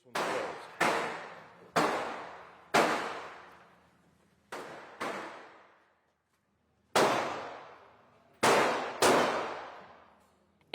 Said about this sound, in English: As the doors open, the sound of gunfire gets louder.